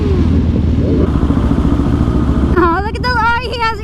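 A group of motorcycles rides along a road, engines rumbling steadily up close while people talk over them, and a voice with rising and falling tones joins near the end.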